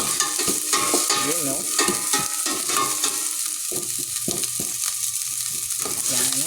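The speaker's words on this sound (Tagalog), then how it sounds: "Hintayin lang natin mag-translucent ang ating onion para bago natin lagay ang ating bawang." Onions sizzle and crackle in a hot pan for pork caldereta, with stirring scrapes throughout and a voice speaking briefly over the frying.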